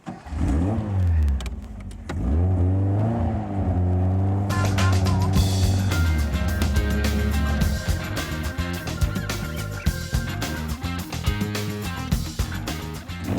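Noble M12 sports car engine revving and accelerating, with rising and falling engine pitch through several gear changes, loud and close, ending in a sustained hard run.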